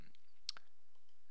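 A single sharp computer mouse click, brief and close, in an otherwise quiet room with faint background hum.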